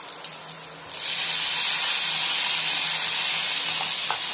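Green chillies and curry leaves tempering in hot refined oil with mustard seeds give a loud, steady hiss that swells after a quieter first second and holds as a dense, continuous sizzle with no talk.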